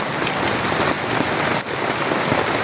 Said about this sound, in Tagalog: sa sobrang ingay ng ulan